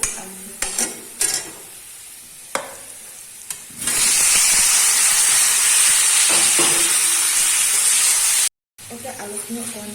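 Potatoes for aloo bhaji hit hot oil with softened onions and break into a loud, steady sizzle with steam hiss. Before it come a few scattered clinks and stirring knocks. The sizzle runs unbroken until a brief cut near the end.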